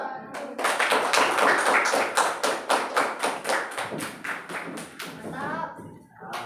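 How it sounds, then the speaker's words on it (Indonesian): Classroom applause for student group 4 after a presentation, heard as a run of fairly regular, distinct claps with some taps and thumps, moderately loud and close, with faint voices near the end. "Tepuk tangan untuk kelompok 4."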